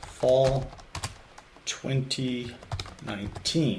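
Computer keyboard keys click in short bursts of typing while someone talks over them nearby.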